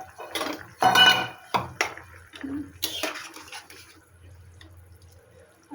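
Pieces of fish go into a simmering vegetable fish curry, with several sharp metallic clatters of utensil against pot, wet splashes and a softer bubbling that tails off.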